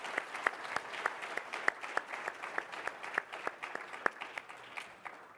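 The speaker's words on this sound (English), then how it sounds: "If you would all join me in a round of applause." A modest audience claps after a panel discussion at an insurance conference, steady, fairly faint applause in a room with individual sharp hand claps standing out near the front.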